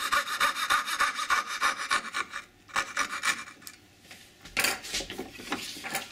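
A hand fret saw cuts pine for a candle box in short back-and-forth rasping strokes, nearby, with brief pauses between bursts of sawing and no voices.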